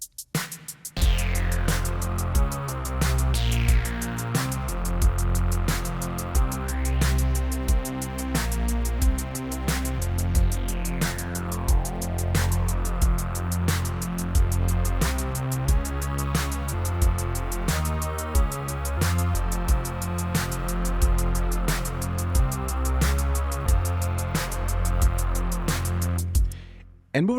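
A retro bass preset from the Arturia Pigments 4 synthesizer plays a rhythmic, punchy bass line with bright harmonics and occasional filter sweeps, steady and prominent throughout.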